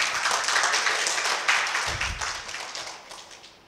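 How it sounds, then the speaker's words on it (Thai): A church congregation applauds together, a dense wash of many hands clapping close and steady that slowly thins and fades out, with a soft low thump in the middle and no talk. "ปรบมือให้กับพระเยซูด้วยกัน"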